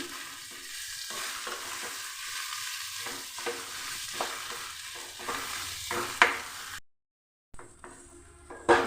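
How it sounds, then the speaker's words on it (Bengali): Eggplant and potato bharta being mashed and mixed by hand with salt and sugar, a close, soft squelching and pressing rhythm with occasional sharper taps, no talk. "খুব সুন্দর করে মাখা হয়ে গেছে"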